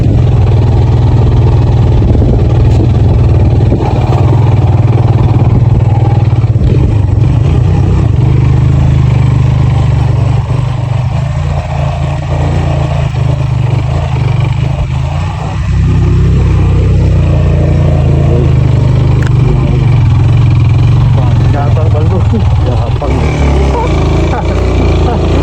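Steady engine rumble from motorcycles idling and running nearby, a continuous low drone throughout with voices talking faintly underneath.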